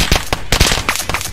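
A quick, loud cluster of gunshots in a Roblox game, several sharp cracks fired in fast succession and packed close together.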